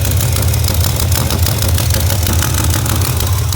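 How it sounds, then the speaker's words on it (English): A 1974 Camaro engine runs steadily with a suspected exhaust leak at the header, a close, rough, low rumble with a fast ticking pulse, loud and constant with no voices. "It's either a leak from the header or something's really not happy in there and it's flapping around"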